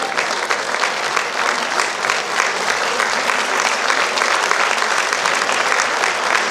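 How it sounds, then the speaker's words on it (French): A music-hall audience gives sustained, loud applause to ballet dancers at a season's first show, a steady dense roar of clapping lasting throughout with a faint voice underneath. "c'est pour vous ces applaudissements."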